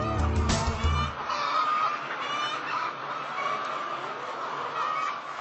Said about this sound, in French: On a la race Araucana, les poules blanches que vous voyez, comme celle ici en arrière de moi.